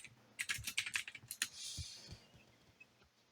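Quick bursts of clattering keystrokes on a computer keyboard at a DOS command prompt, a rapid run of clicks followed by a softer rustle and a few faint taps, close and alone.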